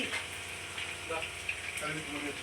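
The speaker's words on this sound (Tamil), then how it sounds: "இன்றைக்கி எங்கள் வீட்டில் மீன் குழம்பு ஃபிஷ் ஃப்ரை வறுவல் நடந்துட்டுருக்கு வறுத்துட்ருக்காங்க" Fish frying in a pan at home, a soft continuous sizzle with faint crackles and occasional clinks, fairly quiet and close.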